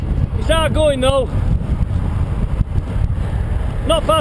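Strong wind buffets a cyclist's microphone on a long-distance John O'Groats to Land's End road ride near Invergordon in the Scottish Highlands, a constant low roar with someone talking briefly over it.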